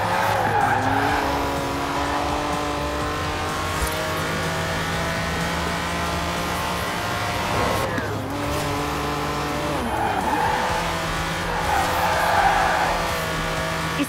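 A Lamborghini Countach races in Forza Horizon 4, its engine revving and shifting loudly up close while the tires squeal through repeated slides.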